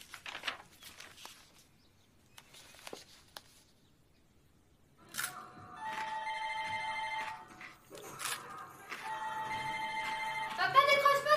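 A telephone rings indoors in a home, with repeated electronic ring bursts starting about halfway through, after some quieter rustling and faint voices, fairly clear and moderately loud.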